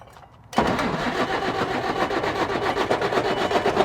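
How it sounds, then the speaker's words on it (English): A donor engine for a pulling tractor cranks and catches at about half a second, then runs on steadily and loudly, rough and rumbling, with no talk over it. "Shut it off, see if it'll start back up."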